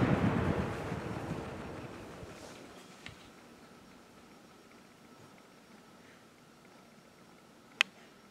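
A Lasko Cool Colors box fan winds down after switch-off, its broad airy whoosh loudest at first and steadily fading toward near silence, with a lone sharp tick late on.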